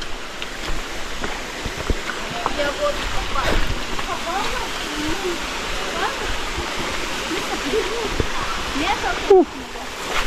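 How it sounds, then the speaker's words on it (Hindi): Steady rushing and splashing water from a small waterfall on a hiking trail fills the scene, with voices talking over it. "हमारा फर्स्ट वाटरफॉल है, छोटा है पर अच्छा है, प्यारा है"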